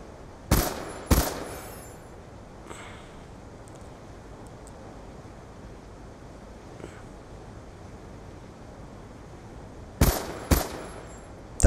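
Gunfire in Black Ops 2 with a full metal jacket attachment: a pair of sharp shots near the start and another pair near the end, separated by a long stretch of windy background noise.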